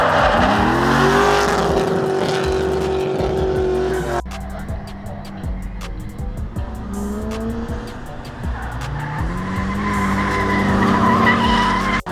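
A drift car with an aggressive cam chops loudly as its tires skid and squeal during a close tandem drifting run, the engine roaring and rising under a sustained screech, the tone dropping partway through.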